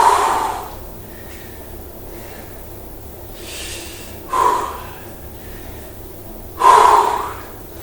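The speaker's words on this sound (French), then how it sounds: "Inspire et expire." Heavy breathing during a leg, thigh and glute strengthening workout, with several sharp, loud exhalations and gasps spaced a couple of seconds apart over quieter room tone.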